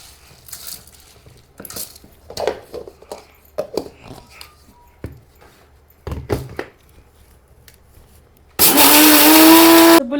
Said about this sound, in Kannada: ಇವಾಗ ಇದನ್ನೆಲ್ಲ ಮಿಕ್ಸಿಗೆ ಹಾಕೋಬೇಕು.